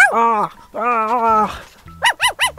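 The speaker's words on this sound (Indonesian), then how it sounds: "Terdengar suara anjing menggonggong." A dog whines in long drawn-out cries, then lets out three or four sharp, close barks in quick succession.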